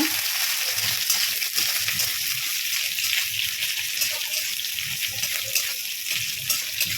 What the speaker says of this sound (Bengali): তো পেঁয়াজ আর লঙ্কাটা ভালো করে ভেজে নিই